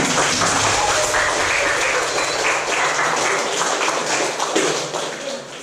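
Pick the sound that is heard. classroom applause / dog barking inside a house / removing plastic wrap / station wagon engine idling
classroom applause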